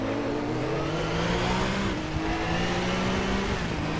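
A Joest Porsche race car accelerates hard out of a hairpin at the Norisring street circuit, its engine note loud and close and climbing steadily in pitch, with no voices over it.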